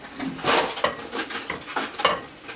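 Metal forks clink against dishes in a home kitchen during plantain cooking, a series of bright, close, irregular clatters over a few seconds.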